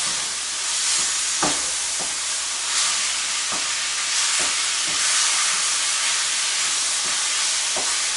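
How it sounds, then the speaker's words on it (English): Ground hamburger meat for moussaka fries in a pan with no added grease, giving a steady loud sizzle broken by scattered scraping clicks from stirring, with no talking. "I'm going to start stirring this stuff around."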